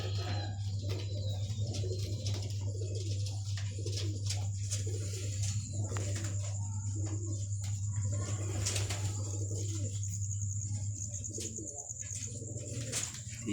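Pigeons coo softly and repeatedly at close range over a constant low electrical hum, with occasional faint chirps and brief rustles throughout.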